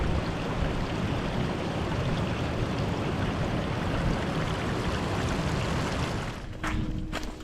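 A fast glacier stream pours in a loud, continuous rushing roar, then thins slightly near the end as a few faint knocks and clicks come through.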